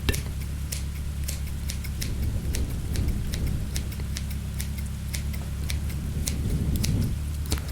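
Rapid, repeated snips of food scissors cutting, crisp clicks in an irregular rhythm over a low background hum, close to the microphone.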